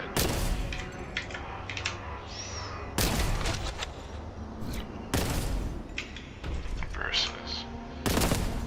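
Gunfire in the video game Warhammer 40,000 Boltgun: a few heavy, sharp shots spaced seconds apart, loud and close, with quieter clatter and effects between them.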